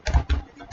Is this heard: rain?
no